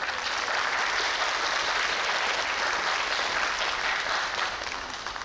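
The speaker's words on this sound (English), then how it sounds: "Can we give a round of applause for Steve Armstrong" An audience at an outdoor BC Day celebration in Coquitlam applauds in a steady, even wash of clapping that holds for several seconds and fades slightly at the end.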